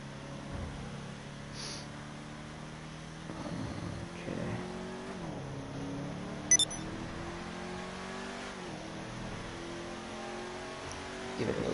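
Car engine in GTA 5 accelerating and shifting, a rising tonal drone that climbs, drops briefly and climbs again through successive gears, steady and moderately close, with a couple of short beeps.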